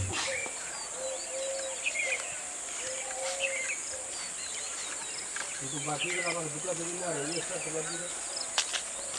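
Birds sing and chirp around a hillside resort, with scattered calls and a tonal warbling phrase toward the end, set against a steady insect or cricket drone; no one speaks.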